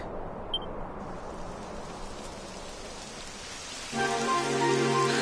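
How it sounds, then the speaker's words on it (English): Steady rain hisses in the Dragon Quest XI video game, a continuous soft wash that swells slightly louder near the end as game music tones come in. "Typical. It would have to go and start raining, wouldn't it?"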